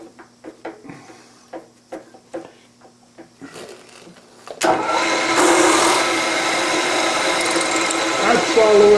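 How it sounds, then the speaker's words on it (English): Dry drilling of cast iron on a machine tool: several sharp mechanical clicks and knocks, then a steady loud grinding whir of the cutting that runs continuously to the end. "And since this is cast iron, we're machining dry."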